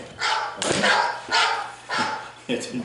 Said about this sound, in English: Bruce in Ohio will want to know why that phone is barking at you.